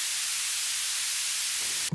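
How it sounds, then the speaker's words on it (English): Steady, even broadband white noise hisses alone at a constant level throughout, ending with a brief dropout right at the close. "This is what people call white noise."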